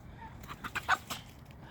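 Silver and gold laced Wyandotte hens clucking in a backyard flock, a few short close calls clustered in the middle of the clip over quiet ambient noise.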